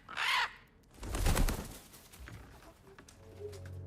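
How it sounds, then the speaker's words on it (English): Odin's raven in the video game God of War Ragnarok gives a short harsh call, then a louder burst of croaking and flapping before quieter sounds trail off. "Odin's raven."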